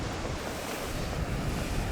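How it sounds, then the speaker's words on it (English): Strong, cold wind on the Australian coast buffets and roars continuously, with rushing surf-like noise in the background and no voices. "Pretty windy, pretty cold"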